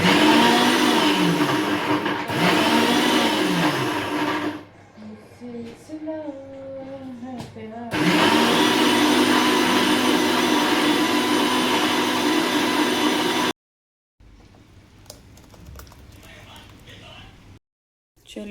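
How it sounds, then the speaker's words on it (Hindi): A mixer grinder grinds vegetables for a rajma tadka, running in loud, steady bursts with brief pauses between them, and no talking over it. "इसमें सब्जियाँ पीस रही हूँ।"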